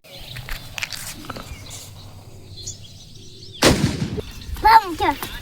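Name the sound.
Diwali firecracker bursting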